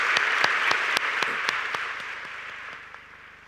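An audience at an Oxford lecture hall applauds to welcome Google's AI lead Laurence Moroney for the 2024 Rewley Lecture: dense clapping with sharp individual claps that slowly fades over a few seconds.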